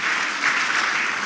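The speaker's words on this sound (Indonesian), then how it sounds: "Beri tepuk tangan yang meriah buat Tuhan." Sustained applause from a church congregation during a sermon, a dense, even wash of many hands clapping at once, fairly loud and steady throughout with no talking over it.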